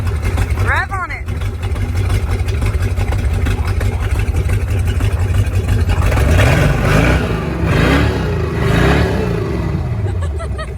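A big block engine in a boat revs up and down in a few swelling bursts against a steady rumble, loud and close, with people talking over it.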